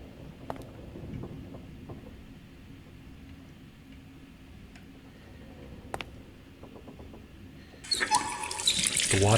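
Hot water running from a tap in a video game, with a steady low trickle under faint clicks and ticks, and a much louder rushing gush of water bursting in near the end.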